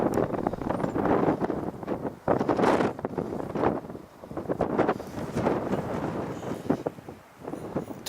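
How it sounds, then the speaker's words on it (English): Strong gusty wind buffets loudly in uneven surges on the clifftop at Beachy Head in the dark, roaring and rustling with no voices, briefly dropping before picking up again. "it was suddenly a lot more windy than it was"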